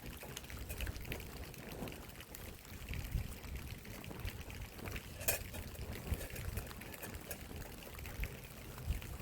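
Water pours into a pot for coffee at an outdoor camp, a steady trickle running for about nine seconds under gusty wind noise.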